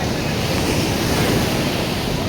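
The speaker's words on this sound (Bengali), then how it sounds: "অত্যাধিক লেভেলে ঢেউ চলছে" Heavy ocean waves surge onto the beach at Puri, a loud continuous roar of surf mixed with gusty wind buffeting the microphone.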